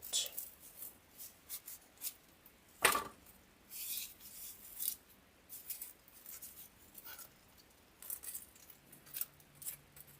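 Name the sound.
cutting out wreath pieces with scissors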